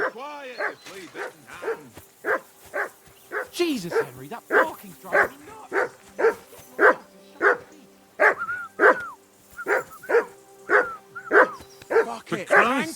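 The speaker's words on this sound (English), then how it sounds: "Jesus, Henry, that barking's driving me nuts" A dog barks over and over in Kingdom Come Deliverance 2, loud sharp barks coming in a steady rhythm about twice a second, with a few yips mixed in.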